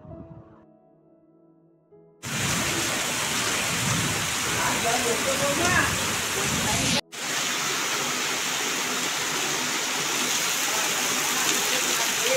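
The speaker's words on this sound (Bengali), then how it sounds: "মুষলধারে বৃষ্টি হচ্ছে ঝমঝম করে" Heavy rain pours down in a steady, dense roar on an afternoon, starting abruptly after a quiet moment and pausing briefly before resuming, loud and close throughout.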